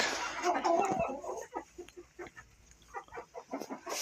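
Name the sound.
chickens and chicks clucking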